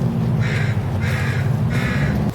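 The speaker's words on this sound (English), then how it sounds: "I hate crows." Crows caw three times in a slow, even series, loud and fairly near, over a low steady rumble on a snowy Portland street.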